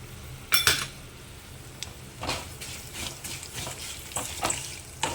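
Sesame seeds and chana dal frying in a pan for amaranth leaf chutney: a soft steady sizzle with intermittent scrapes and clinks of a spoon stirring against the pan, close by and fairly quiet.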